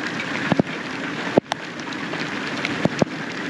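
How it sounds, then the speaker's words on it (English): Rain falls outdoors over a garden, a steady close hiss broken by a few sharp pattering taps and thuds near the microphone, with no talking. "I'm getting rain on my lens."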